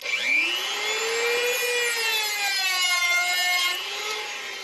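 A loud, steady high-pitched grinding whine of a power tool cutting into metal, holding for several seconds with rising and falling tones before easing off.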